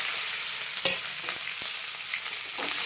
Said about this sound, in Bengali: এবার আমি কুচো পেঁয়াজগুলো এর মধ্যে দিয়ে দেবো।